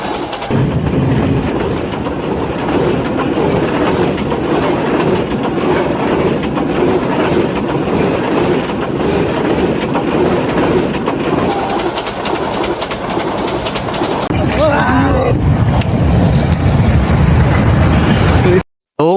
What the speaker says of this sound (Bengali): সো অনেকক্ষণ পর যাত্রীবাহী ট্রেন যাচ্ছে